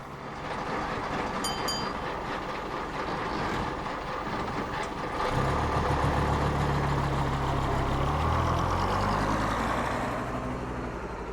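A Leyland Cub vintage bus in Crossfield Water Services livery rumbles past at a Beamish transport event, its engine growing louder and deeper partway through and then holding a steady mechanical drone, with no talk.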